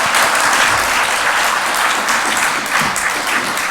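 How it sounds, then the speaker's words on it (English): A conference audience at a main session applauds a speaker, a dense, steady wash of clapping that stays loud and even throughout with no break. "I'd like everybody to give a big round of applause to Shrikant for his session just now"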